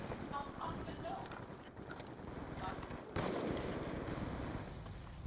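Rapid gunfire from the video game Black Ops II, a dense continuous rattle of shots that grows louder midway, with a player talking over it.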